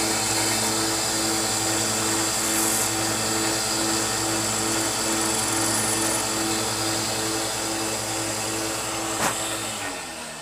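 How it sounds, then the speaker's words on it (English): A handheld sander trims a piece of neoprene rubber on an airsoft gun trigger, a loud steady motor whine with a strong hum running close and unbroken, easing off at the very end. "You could also use like a sander like this to just trim it down a little bit."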